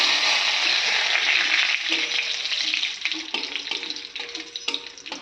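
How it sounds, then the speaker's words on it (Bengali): A bay leaf fries in hot oil, giving a loud, bright sizzle at first. It then settles into a softer crackle with sharp pops. "তেজপাতাটা তেলে দিয়ে দিচ্ছি"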